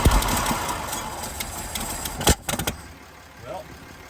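Engine of a Lull fitted with Mopar electronic ignition catching and starting, a rough, loud running rumble with uneven knocks that drops away near the end, while people talk over it.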